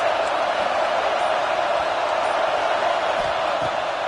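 Steady, loud wall of noise from a football stadium crowd cheering and whooping, sustained without a break and filling the space evenly from start to finish.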